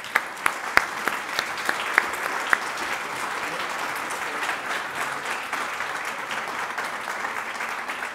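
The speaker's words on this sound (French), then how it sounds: "et que nous pouvons applaudir" Audience applause at a French talk on mental health first aid, steady dense clapping from a seated crowd with a few sharp individual claps standing out early on, continuing evenly throughout.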